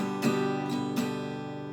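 Three quick strums on an acoustic guitar play the strumming pattern for a song. The chord rings on between strokes at a quiet, close level.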